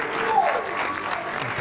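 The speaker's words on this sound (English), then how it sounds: "Let's do a round of applause." A short round of applause during a live Q&A session at an office headquarters, a steady wash of clapping lasting under two seconds, a voice faintly audible beneath it.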